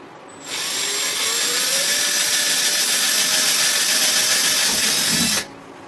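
A power drill fitted with a 3/16 inch bit bores a hole for a number 10 sheet metal screw, a steady loud whine running about five seconds, starting and stopping abruptly, with no talk.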